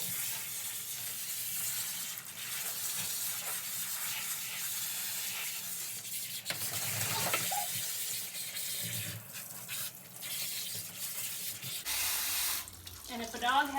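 A continuous hissing spray of water runs for most of the stretch while a Samoyed dog is washed, with rubbing and splashing sounds mixed in and a brief shift near the end.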